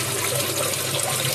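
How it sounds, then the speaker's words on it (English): An automatic toilet flush sends water rushing in a continuous, loud, close gush of flowing water with no pauses. "The water flush goes."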